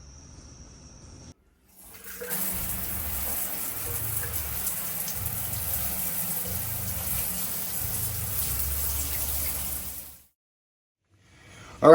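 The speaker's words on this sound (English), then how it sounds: "Attempting to see if our pump system works" Water from a newly hooked-up electric pump system on an overland truck rushes and splashes steadily for about eight seconds, a broad hissing flow with a low rumble beneath, starting and stopping abruptly.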